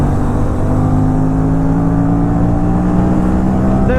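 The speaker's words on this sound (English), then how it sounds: "Every time I twist the throttle, it feels so much encouraging." A KTM RS 457 motorcycle engine hums loud and steady under throttle while riding, a continuous droning tone with rushing wind noise and no talking.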